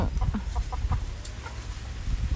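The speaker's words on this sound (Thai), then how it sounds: "ไก่เต็มเลยปีนขึ้นมาบนต้นมะม่วง" A chicken perched up in a mango tree clucks in short, repeated bursts nearby, with soft background rustle and no talking.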